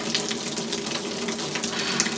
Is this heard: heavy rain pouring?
yes